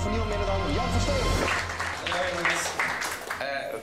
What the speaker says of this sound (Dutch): Geef alsjeblieft een duidelijk applaus voor niemand minder dan Jan van Steen.